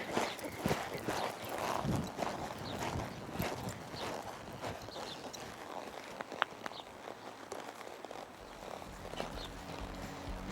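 A horse's hooves clop at an irregular walking pace on soft ground during riding training, near and moderately loud, with faint rustling and no talk.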